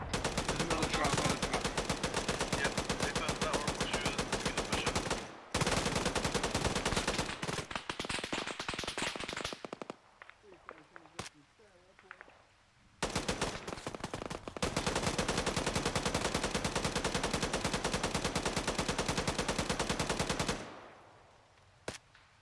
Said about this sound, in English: It's shooting a fleeing enemy